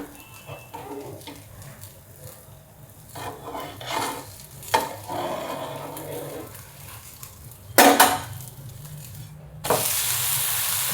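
Jowar dhirde, a sorghum-flour pancake, sizzles and roasts in a pan after being flipped, with soft stirring and scraping scrapes, a louder clatter near the end and someone speaking briefly over it.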